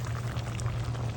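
A pot of beef and potato curry bubbles at a steady simmer at a campsite, with a low continuous boiling rumble and small popping bubbles, close and fairly quiet.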